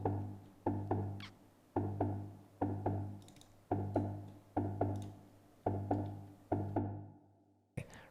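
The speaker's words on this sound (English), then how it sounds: "And the preset which I used for this bass line was an analog perc." An analog percussion synth preset used as a bass line plays punchy, decaying low notes in a steady repeating rhythm, each hit sharp at onset and fading quickly, with no other sound until a brief cut near the end.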